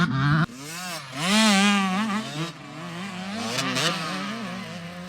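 A dirt bike rides through ruts as a trail rider keeps momentum without the rear brake, its engine wavering in pitch as the throttle rises and falls, fairly close and loud.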